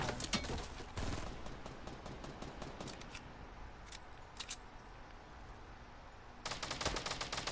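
Bursts of gunfire in the video game Fortnite, a dense volley of sharp shots at the start, then scattered distant pops, and another loud rapid burst near the end.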